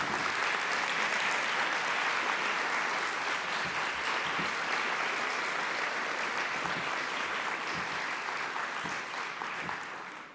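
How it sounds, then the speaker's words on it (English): A conference audience at a general session applauds, a dense steady wash of clapping that holds for several seconds and then begins to fade at the end. "please give him a very big, big, big, big round of applause."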